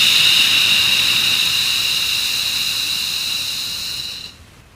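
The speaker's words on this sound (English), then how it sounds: "And breathing out through the mouth." A long, deep exhale breathed out through the mouth during a guided breathing exercise, a close, steady airy hiss lasting several seconds before cutting off abruptly.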